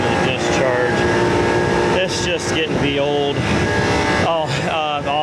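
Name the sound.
refrigerant recovery pumping from chiller filter dryer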